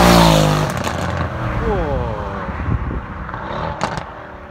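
A Mercedes C63s AMG with 650 hp revs hard at close range, a loud roar that climbs and falls in pitch, then settles into a rumbling drive while people speak over it.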